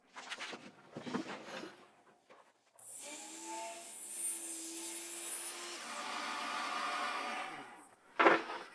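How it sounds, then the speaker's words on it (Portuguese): A saw cutting wood pieces for cabinets in a woodworking shop: a loud, steady whining cut of several seconds follows softer scraping and handling of the boards, then a brief clatter at the end. "Posso fazer meu primeiro corte agora."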